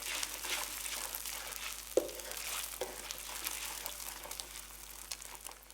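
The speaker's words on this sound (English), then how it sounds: "Blend the eggs through the chilli paste and oil until they start to cook through." Beaten eggs are stirred through chilli paste and oil in a hot wok, giving a soft continuous crackling sizzle with light scraping and stirring noises throughout.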